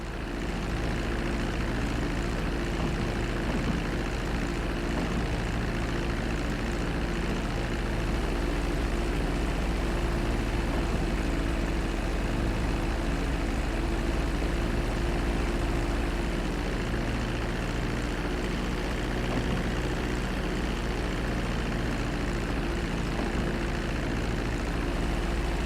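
An airplane taxiing on a runway in GTA V: a steady, loud, droning propeller engine hum with a constant low rumble, unbroken and alone for the whole stretch.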